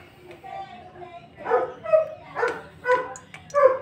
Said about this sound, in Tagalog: Ingay ng aso sa kapitbahay mga ka-idol.